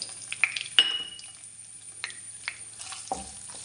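Grated coconut fries gently in ghee in a pan for pineapple kadi, a faint low sizzle under a few sharp clinks and scrapes of a spoon against the metal, no speech.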